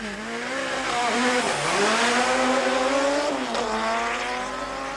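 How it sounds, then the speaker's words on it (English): A four-wheel-drive Audi Quattro rally car from a 1988 rally launches hard off the start line, its loud engine revving and rising in pitch through the gears, with tyre squeal and a brief dip as it shifts, close and continuous. "The other Audi Quattro in the rally, driven by Johan Evertse and navigated by Steve Harding, tears away from the line"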